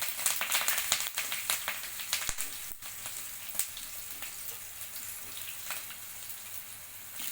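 Curry leaves dropped into a hot oil tempering with dal, crackling and spitting in a quick burst of sharp pops that gradually thin into a steady, softer sizzle, close up with no voices.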